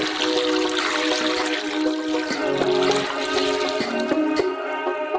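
Eight litres of water poured onto 40 kg of sugar in a large pot, a steady rushing, splashing pour lasting several seconds with no talk.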